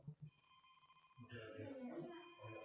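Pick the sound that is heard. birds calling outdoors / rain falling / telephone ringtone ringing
telephone ringtone ringing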